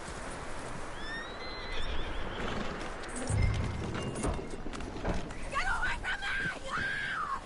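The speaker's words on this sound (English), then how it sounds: "That looks like a decent horse." A horse neighs and whinnies in a video game scene, skittish, with hoof clatter and rising, squealing calls toward the end, over a steady ambient background.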